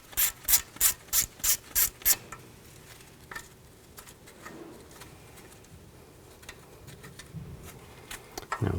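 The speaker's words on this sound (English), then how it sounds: "Now I'm going to remove this bolt, use a 10mm socket." A ratchet with a 10mm socket removes the brake hose bracket bolt on a 2007-2014 GMC Sierra 3500 HD during a lower control arm job: six sharp, evenly spaced ratcheting bursts up close, then quieter handling and scraping.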